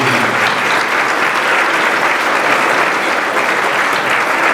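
Loud, dense applause from guests at a graduation dinner for a university class of 2016, unbroken and close for the whole stretch with no voices.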